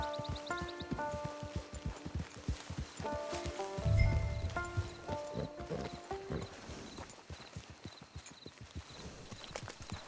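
Horse hooves in the Red Dead Redemption 2 video game, a steady rhythmic clip-clop of a moving mount with a brief snort, under game music and ambient rustle.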